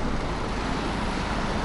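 A bus passes amid London street traffic, a dense, loud engine and road roar filling the whole moment.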